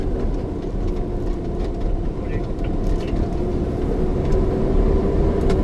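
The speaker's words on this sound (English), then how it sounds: "What a cool sounding truck. Listen to them turbos." A truck's engine and turbos roar past up close, a loud, low, steady rumble with a faint rising whine on top and a voice sounding over it.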